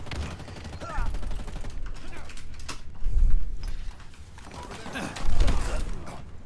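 Gunfire in a video game: close, dense volleys of shots with mechanical clatter and heavier bursts at intervals, continuous through the scene.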